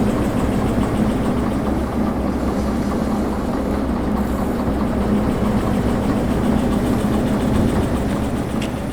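Steady running drone of a diesel-electric locomotive engine in Derail Valley, a continuous low rumble with a constant hum, close and unbroken, with no talk.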